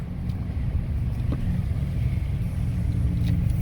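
A 2017 Dodge Ram 5.7L 4x4 truck on Iron Man All Country tires cruising easily, a steady low engine and road rumble filling the cabin, even and continuous with no talk.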